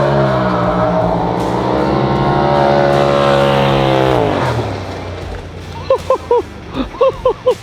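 A turbocharged UTV with raised boost launches on a timed run, its engine roaring loud and rising in pitch as it accelerates hard, then dropping away, followed by several short sharp knocks near the end.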